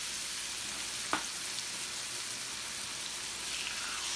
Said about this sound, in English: Because again, we just want it to sear.